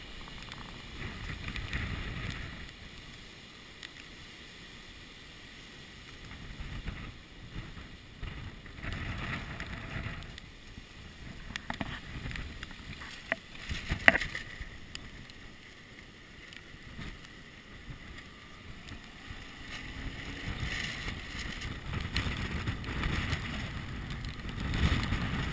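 Strong gusting wind during Hurricane Sandy roars and buffets the microphone outdoors, rising and falling in loud surges with low rumbling bursts throughout.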